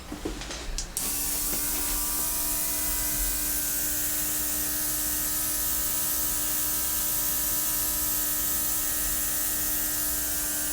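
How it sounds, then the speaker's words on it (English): An airbrush blows a steady, loud broadband hiss of air across wet acrylic pour paint, continuous after a brief handling clatter at the start, with a faint motor hum underneath and no talking. "I definitely need to blow that out. I have to grab my airbrush."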